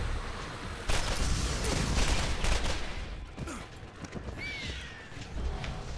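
Pistol fire in the Borderlands video game comes in rapid bursts of shots, loud and close, with a shorter burst and scattered game effects toward the end.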